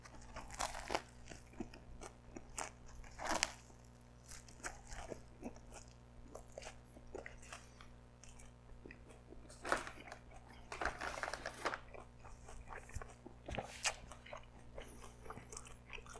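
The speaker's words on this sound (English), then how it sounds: "I'm tasting, starting off with the bread." Crunchy bites and chewing of a banh mi baguette sandwich, close up, with repeated crisp crackles and steady mastication and no talk.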